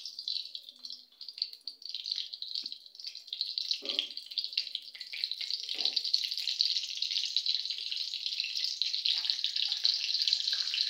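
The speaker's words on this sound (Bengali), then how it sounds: "হালকা হালকা ভাজা হবে কালো জিরে আর শুকনো লঙ্কাটা" Black cumin and dried red chilies frying in white oil in a kadai give a steady, fairly soft sizzle that builds slightly louder toward the end, with a few faint stirring knocks and no talking.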